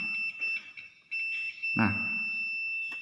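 A multimeter set to continuity emits a steady high electronic beep while probing a motor brush, the tone holding for the whole stretch under a few soft handling noises.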